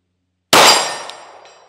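A Sig P365 pistol fires once at a steel target thirty yards out, a sharp loud crack followed by a ringing metallic clang that decays slowly, with a faint second ping trailing behind.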